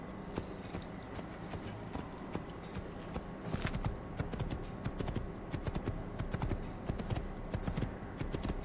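Video-game horse hooves clip-clopping at a slow walking pace, steady and close, with a faint background hum and no voices.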